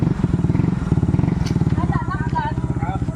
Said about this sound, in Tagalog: Bro, bakit gumanda yung motor niya? Bakit gumanda yung andar?